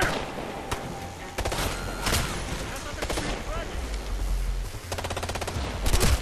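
Rapid bursts of automatic gunfire and single shots crack through a Ghost Recon: Future Soldier firefight, loud and close, with voices shouting under the shooting.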